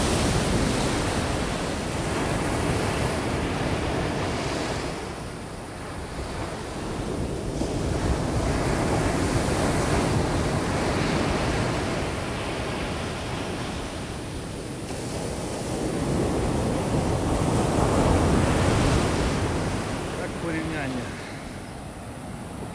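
Ocean waves break at Bluff Beach in Bocas del Toro, Panama, as a loud continuous surf roar rises and falls in slow swells, mixed with wind buffeting the microphone.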